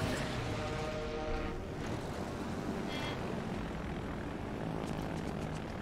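Carrier-launched planes in a naval combat game drone with propeller engines, a steady dense roar running throughout with brief swells, no talking.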